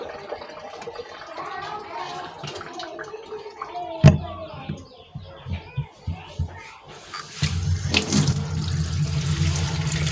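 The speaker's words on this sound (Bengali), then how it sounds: "এখন এই যে শাকগুলো আমি ধুয়ে নেব" Leafy greens are washed under a running tap in a home kitchen sink, with steady splashing water that grows louder and fuller near the end, while a voice talks over the earlier part.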